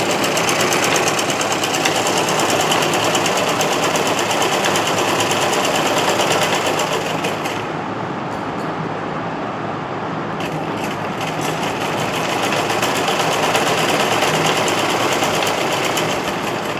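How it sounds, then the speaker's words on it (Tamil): A sewing machine stitches a folded fabric seam in a fast, continuous mechanical whir. It is loud and close, with a brief slowdown about midway before it picks up again, and there is no talking. "மடித்து தையல் போட்டுக்கோங்க."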